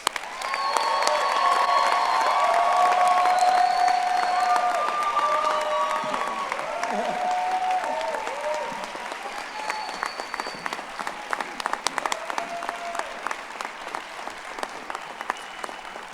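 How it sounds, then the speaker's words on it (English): Audience at a university convocation ceremony breaks into loud, sustained applause with some cheering, holding strong for several seconds before thinning into scattered claps toward the end. "Please give them a round of applause."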